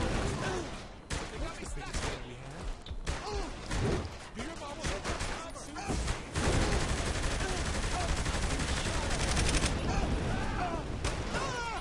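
Dense, continuous gunfire in Saints Row: The Third as shots are aimed at a tank, a steady clatter of rapid reports that swells louder in the second half of the clip.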